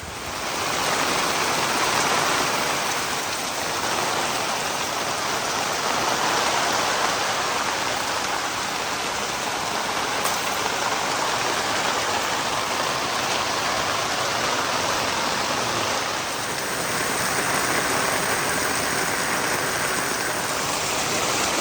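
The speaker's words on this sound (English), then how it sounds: "Wow, it's really coming down. It is really pouring now." Heavy rain pours steadily and loudly, a dense unbroken hiss lasting throughout, flooding a driveway and beating on a tent while work goes on wiring a project truck.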